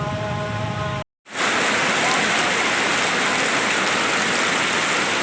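Heavy rain pouring in Aceh, a loud dense roar of steady hiss broken by a brief moment of silence before the downpour resumes at full strength without let-up.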